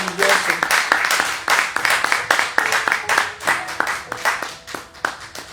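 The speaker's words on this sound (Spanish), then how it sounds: "Démosle un aplauso al Señor porque Dios es tan maravilloso." A church congregation claps together in praise of God, a loud, uneven burst of hand claps with rhythmic peaks, and speech is mixed in briefly at the start.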